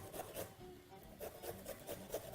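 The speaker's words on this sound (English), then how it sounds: "So proceed by grating your ginger to the smallest size you possibly can" Fresh ginger rasps against a fine grater in a home kitchen, a soft series of quick rhythmic strokes that pause briefly and then resume.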